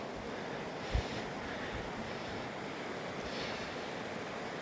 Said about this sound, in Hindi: ये है नदी।